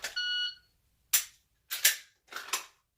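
A short, steady electronic shot timer start beep sounds, then after a pause a series of sharp, close gunshots from a Glock 34 Gen 5 MOS pistol cracks out in quick, uneven succession during USPSA drills.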